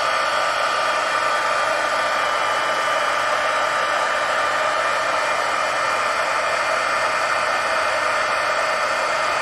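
A heat tool blows hot air over stamped crafting pieces to make them shiny, producing a loud, steady whirring hiss at close range that runs without a break and with no voices.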